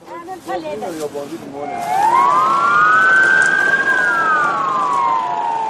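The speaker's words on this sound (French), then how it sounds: "Les sirènes des ambulances résonnent dans toute la ville." An ambulance siren wails in long rising and falling tones through the streets of Cizre, loud and echoing, after a stretch of someone speaking in French.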